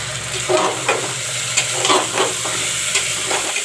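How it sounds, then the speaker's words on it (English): Moong dal in a pot sizzles and hisses steadily while a spoon stirs it, with soft scraping strokes recurring over a continuous frying sound, no voices. "Put in the moong dal."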